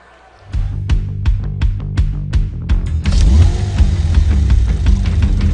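A Porsche Macan sports car engine revs with a sharp start, then rhythmic throttle blips followed by a sustained, rising roar; loud and close, with no talk.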